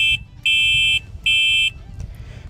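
An electric bicycle's electronic horn, on an EMotorad Doodle V2 folding fat-tyre e-bike, sounds in bursts: a short blip, then two longer high-pitched beeps, loud and close, over low background noise.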